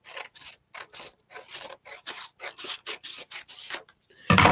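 Scissors snip through a paper book-folding template, a run of about fifteen short, crisp cutting strokes in an uneven rhythm, close and fairly soft, ending in a louder rustle of the paper being handled.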